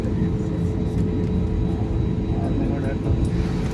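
A steady, loud roar of airplane engines fills the air as a flight takes off from Chennai airport, a broad, unbroken rumble with no pauses.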